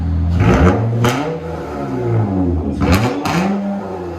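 A 2007 Acura TL Type S with a straight-piped 1.5-inch exhaust revving loud and raspy, two sharp throttle blips rising and falling, close up with no talking.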